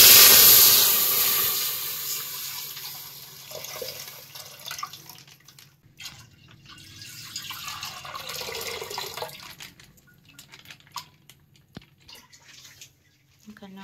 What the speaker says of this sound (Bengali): এবার দুধটা দিই।